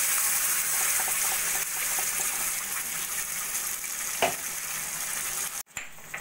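Sliced onion frying in a pan while a ground spice paste goes in, with a steady broad sizzle, occasional stirring scrapes, a brief clatter near the end and no voices.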